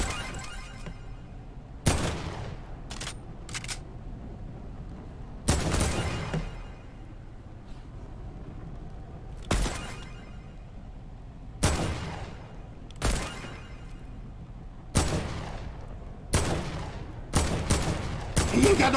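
Loud, sharp gunshots ring out in the video game Fortnite, arriving as separate blasts and short clusters every couple of seconds, each with a quick bright crack and decay over a quieter background.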